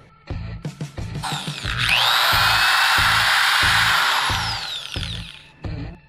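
A BP electric drill runs at full speed for several seconds with a steady high whine, preceded and followed by short bursts and revs, loud and close with no talk.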